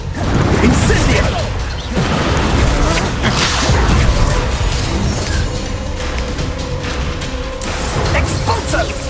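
The Incendio fire spell is cast during a Hogwarts Legacy battle: loud whooshing, crackling bursts and crashes layered over dense, constant combat noise, with a voice heard in the mix.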